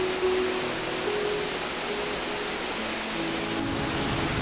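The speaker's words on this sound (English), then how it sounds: "Jiuzhaigou's main attraction, the largest waterfall in the reserve" Norirang Falls, the largest waterfall in the Jiuzhaigou reserve, gives a steady, dense roar of falling water that holds at an even level throughout, with no voices.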